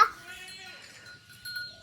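A baby goat gives a high, wavering bleat at close range, trailing off and then rising again briefly near the end, with faint household noise underneath.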